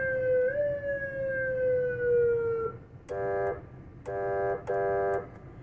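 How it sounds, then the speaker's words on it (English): A loud electronic siren from a 200-watt PA system sweeps in a long falling tone, then sounds in three short bursts of repeated pulsing, with background hum beneath it. "Or that's siren."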